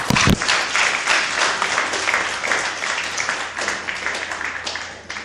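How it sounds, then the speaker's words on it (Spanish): Church congregation at a sermon breaking into applause, loud dense clapping from many people that starts with a sharp burst, then holds steady and slowly eases off. "Denle un aplauso, Arbe."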